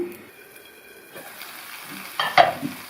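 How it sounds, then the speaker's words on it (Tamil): Capsicum simmering in tomato masala in a pan, a soft low sizzle with a brief clatter of utensil or lid near the end. "இந்த குடமிளகாய் சேர்த்துருக்கிற தக்காளி மசாலாவோடு சேர்ந்து நல்லா வெந்து வரட்டும்."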